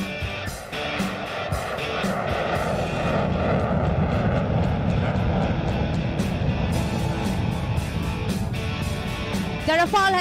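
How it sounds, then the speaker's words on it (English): An HAL Tejas fighter jet makes a slow-speed pass at an Air Force Day air display, its loud sustained engine roar filling the air while voices are heard over it. "And there she is, Tejas in slow speed."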